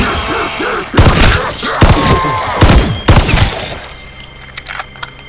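Gunshots fired at zombies in a video game: four heavy, booming shots spaced about a second apart, loud and close, followed by a few lighter clicks and taps.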